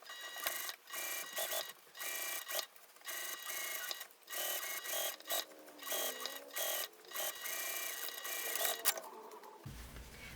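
Sewing machine stitching a bag lining and gusset, running in repeated short bursts with brief pauses, close and fairly loud throughout.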